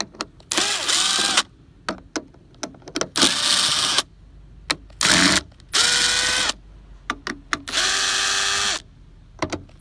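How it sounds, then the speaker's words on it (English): Power tool spinning out 8mm bolts from a Ram truck headlight cover: repeated whirring bursts of a drill or impact driver, rising and falling in pitch, interspersed with brief clicks and short gaps between bolts. "So there's 5 8mm bolts. We'll go ahead and take those off."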